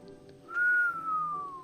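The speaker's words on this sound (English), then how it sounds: "whistle for me. Low whistle." A person gives a single low whistle, one sustained tone that starts a bit higher and slowly glides downward for about a second, close and clear over faint room noise.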